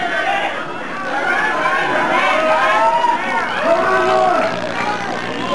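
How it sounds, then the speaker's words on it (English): Wrestling crowd at a Ric Flair and Jerry Blackwell versus Dory Funk Jr. and Ken Patera match, yelling and chanting steadily, loud and close, blended with continuous crowd chatter and overlapping voices. "The crowd's yelling, "Fatwell is chicken.""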